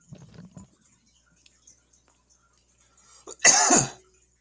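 A single loud, harsh cough bursts out close by after a few faint, scattered noises.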